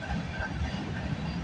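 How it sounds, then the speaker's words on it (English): A CN freight train with Burlington Northern hopper cars rolls past at Bronte, a steady, moderately loud rumble of wheels and cars heard briefly and alone. "Because it's got some Burlington Northern hoppers coming up."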